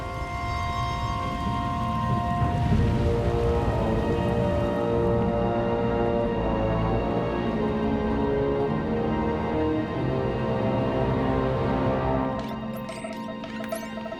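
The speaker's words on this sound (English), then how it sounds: "Looks like the storm's not letting up anytime soon." Steady, loud rainstorm in Star Wars: The Old Republic, with dense patter mixed with sustained tonal ambience that continues unbroken before easing slightly near the end.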